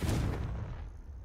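A Confringo spell from Hogwarts Legacy goes off as a single close, loud blast, a heavy burst that fades into a short rumbling tail, with no voices.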